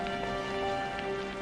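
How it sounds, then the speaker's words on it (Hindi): Heavy rain pours steadily at night, a dense, even wash of falling water with no pauses, no voices and no other sounds over it. "बाहर की मूसलाधार बारिश थमने का नाम नहीं ले रही थी"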